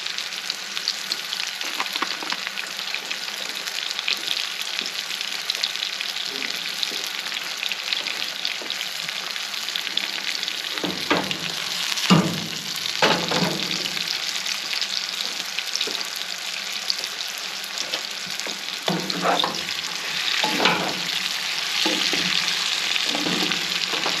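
Chicken frying in oil on a grill for an Asian-style chicken and noodle dish, a steady bright hiss of sizzling fat with occasional stirring and clatter, close and continuous without speech.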